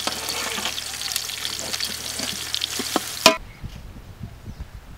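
Whole spices such as cinnamon and cloves crackle and sizzle in hot oil for chicken biryani, with stirring clinks, ending in a sharp clatter before the frying drops to a quieter hiss.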